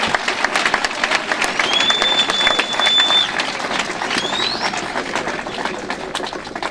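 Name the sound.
audience applause for journalists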